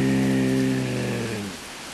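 Heavy rain from Hurricane Irene in 2011 pours down in a dense, loud, continuous hiss, with a low droning hum underneath that fades out partway through.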